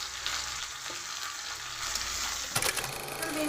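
Potato, pointed gourd and eggplant fry together in hot oil, giving a soft, continuous sizzle with faint stirring clinks and a brief louder scrape near the end.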